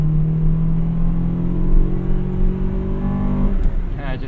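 A 1998 Acura Integra Type R engine revs up toward VTEC, its tone rising steadily under people talking inside the car.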